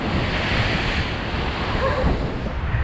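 Large ocean waves wash continuously nearby during fishing, a broad roaring surf mixed with gusts of wind across the microphone, with no voices.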